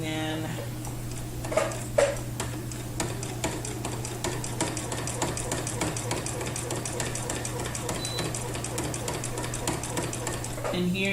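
A sewing machine quilting fabric in the ditch, its needle chattering in a fast steady rhythm up close under a low motor hum, with a person talking over it.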